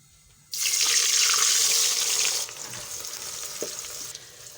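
Onions drop into hot ghee for aloo gosht, bursting into a loud, bright hiss that holds for about two seconds before settling into a softer, steady sizzle.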